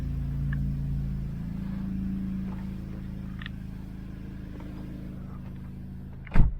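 A Toyota Corolla engine idling steadily after a clutch installation, a low, even hum heard close and fairly quiet, ending with a brief louder mechanical clunk near the end.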